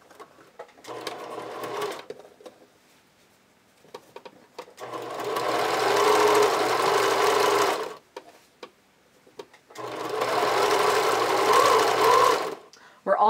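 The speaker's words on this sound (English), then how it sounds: "fold the elastic along the fold line, and again use a zigzag stitch to top stitch in place" A sewing machine runs zigzag top stitching on folded elastic for panties, sounding as two long steady whirring bursts with short quiet gaps, and a person speaking between them.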